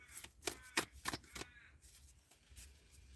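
Animal oracle tarot cards are shuffled by hand in a few quick, close riffling bursts, soft and crisp in a quiet room, then trailing off into faint rustling.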